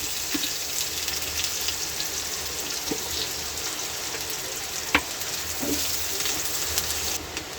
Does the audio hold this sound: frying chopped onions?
yes